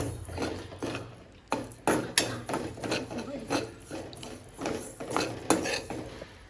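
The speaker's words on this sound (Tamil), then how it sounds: "இந்த அளவுக்கு நம்ம வறுத்து எடுத்துக்கணும்" Ingredients are dry roasted in a pan until dark, with a steady run of close, rhythmic scraping and clattering stirring strokes against the metal.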